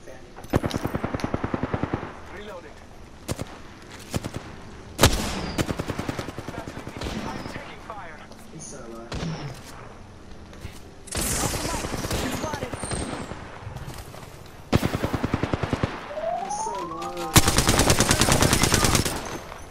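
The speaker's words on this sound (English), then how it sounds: "Oh, we're being shot at." Rapid automatic weapon fire in the Apex Legends video game, loud bursts repeating through the stretch with short gaps, mixed with other game effects and a voice talking over the action.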